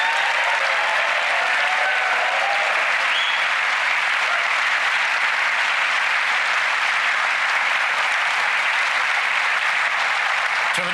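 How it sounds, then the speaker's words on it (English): A studio audience on the Penn & Teller: Fool Us magic show breaks into loud, sustained applause, a thick wall of clapping and crowd noise that stays level for about eleven seconds and drowns out everything else. "Please give Stacey a huge round of applause as she joins you on stage."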